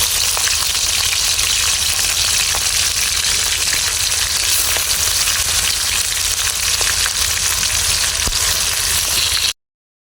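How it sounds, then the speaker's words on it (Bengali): Onion paste, green chili, turmeric and mixed spices frying together in a pan, giving a loud, close, steady sizzle that runs unbroken for the whole stretch with no voices. "পেঁয়াজ বাটা কাঁচামরিচ সব কিছু হলুদ যা যা লাগে সব মশলা কষাইছি"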